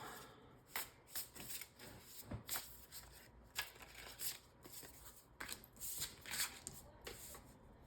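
Oracle cards being shuffled by hand for a tarot reading, a soft close series of riffling bursts and flicks in an uneven rhythm, quiet overall and free of speech.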